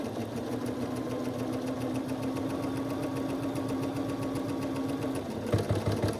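A sewing machine stitches thick curtain seams in a fast, steady mechanical chatter with a constant motor hum, which cuts off near the end into a few heavier, irregular thumps, fairly quiet and with no talking.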